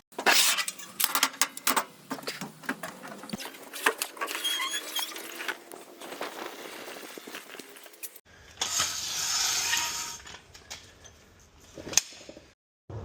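Plastic body panels being ripped and pried off a seized 2018 Yamaha YZ250F dirt bike, with close cracking, snapping and scraping bursts, a sustained tearing stretch, then brief clicks and knocks.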